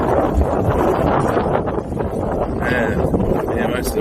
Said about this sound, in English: The wind's pretty bad here today even.